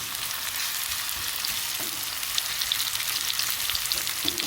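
Onions sizzle gently in a pan over a medium-low flame, a steady close frying crackle with small pops scattered through it and no voices.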